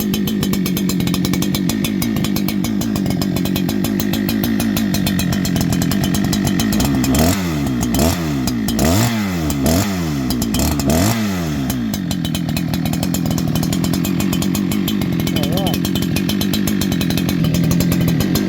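A Holzfforma G288 chainsaw runs steadily just after its first start, a loud continuous two-stroke drone with a stretch of rising and falling revs in the middle as the throttle is blipped, then settling back to idle.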